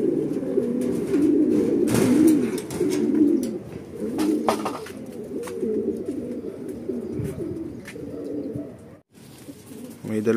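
Racing pigeons coo repeatedly at their loft in Rosario, La Union, with low rolling calls overlapping throughout and faint background noise.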